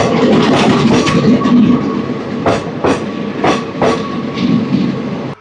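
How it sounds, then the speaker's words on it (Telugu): A train rolls steadily past at Godavari station, a loud continuous rumble with rhythmic clickety-clack wheel beats coming through close and alone. "బ్యాక్ టు బ్యాక్ ట్రైన్స్ వస్తూనే ఉన్నాయి"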